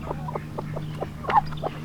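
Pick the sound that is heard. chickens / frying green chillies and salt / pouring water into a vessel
chickens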